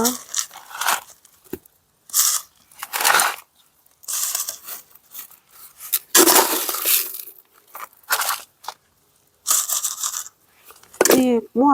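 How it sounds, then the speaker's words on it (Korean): Masa grit being spread as topdressing over the soil of a freshly repotted plant, heard as irregular, close gritty crunching and scraping bursts between pauses, with a brief higher rustle at the end. "마사를 복토해 줄게요"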